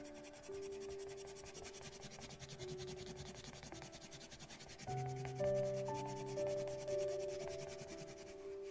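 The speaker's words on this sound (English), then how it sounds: "I want to go from the middle out with high pressure, so we're burnishing here and we're going over the purple." Colored pencil pressed hard against paper while burnishing purple areas of a mandala orchid, a soft continuous rubbing and scratching at close range, with faint tonal music underneath.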